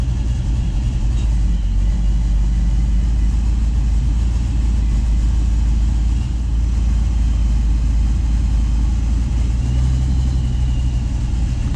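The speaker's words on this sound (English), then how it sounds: "I'm gonna turn the AC on max. And let's see what it does." A Chevy LS-swapped engine idles steadily with the air conditioning switched to max, a continuous low rumble that stays even throughout with no talking.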